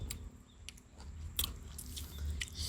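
Close, crisp crunching and chewing of spicy, sour Thai mango salad, with sharp bites recurring every half second or so over a low background rumble.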